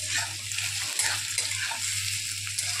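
Onions fry in oil for a spiced chicken or mutton curry, a steady close sizzle running throughout with a low constant hum beneath and one brief dip near the one-second mark.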